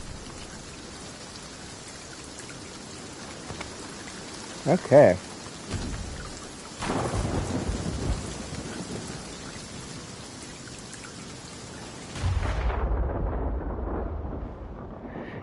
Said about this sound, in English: I think we just got struck by lightning.